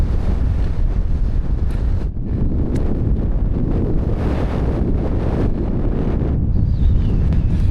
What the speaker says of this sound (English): Hopefully you can hear me with the wind.